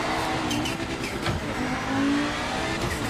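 A BMW racing car engine in the sim racing game Project Motor Racing roars and revs steadily at close range, with the pitch rising and falling as it accelerates, plus a brief tire squeal.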